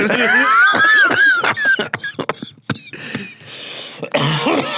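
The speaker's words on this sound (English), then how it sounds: "I'm just coughing into the mic now." Several close coughs and throat-clearing bursts, loud and harsh, mixed with a voice and some laughter.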